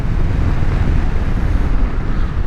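Loud, steady wind roar buffets the microphone while riding a Suzuki V-Strom 800DE motorcycle, a continuous low rumble at speed.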